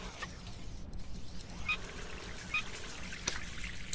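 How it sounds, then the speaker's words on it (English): Shower water runs steadily in the survival game Sheltered, a continuous hiss of spray with faint trickling and a few brief higher blips over it, with no talking. "Yep, we got enough for him to take a shower now."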